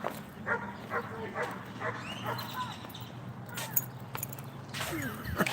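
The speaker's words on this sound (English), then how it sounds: "That dog is barking all the way over there at me." A dog barks and yips off in the distance, intermittent and faint, over outdoor background noise while a person talks nearby.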